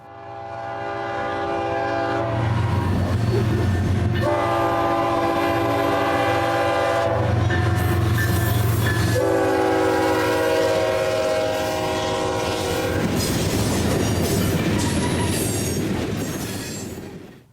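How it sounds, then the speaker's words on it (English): An eastbound BNSF freight tanker train rumbles past steadily and loudly in Wichita, wheels grinding and squealing on the rails, with a long horn sounding in sustained blasts. "It was the passing of an eastbound BNSF tanker train"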